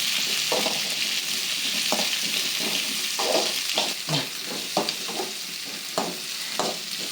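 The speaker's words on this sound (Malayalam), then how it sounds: "ഈ സവോള ചെറിയുള്ളി നന്നായി ഒന്ന് വണങ്ങട്ടെ" Sliced onion and shallots fry in a pan with a dense continuous sizzle, broken by repeated scraping stir strokes at an uneven rhythm, close and loud with no voices.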